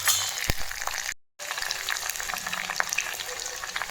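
Mustard seeds splutter and pop in hot oil while a tempering is made for dal: a dense, steady sizzle scattered with sharp crackles, close and loud, broken by a brief dead-silent gap midway.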